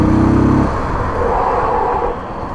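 A 1993 Honda XL 185s motorcycle on a test ride, its engine giving a loud, steady low hum and rumble that dips slightly near the end, with no voices.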